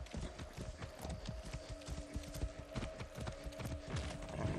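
Horse hooves clip-clop steadily in Far Cry 6, a quick, even rhythm of close hoofbeats with faint mechanical rattles behind.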